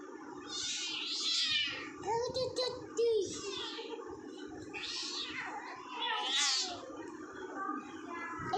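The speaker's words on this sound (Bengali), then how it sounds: "ম্যাও ম্যাও করো বিড়ালকে একবার ম্যাও ম্যাও করো" Repeated cat meows, high and insistent, several in a row, with a voice and other talk mixed in close by.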